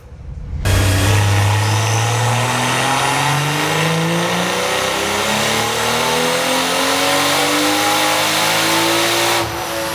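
A BMW Gen 1 B58 turbocharged engine revs hard on a tuning pull at 24 PSI boost, its pitch climbing steadily in one long loud sweep for about nine seconds before cutting off.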